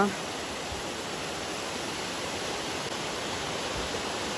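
A waterfall near Madanapalle after heavy rains rushes in a steady, dense roar of flowing water, constant and fairly close with no breaks.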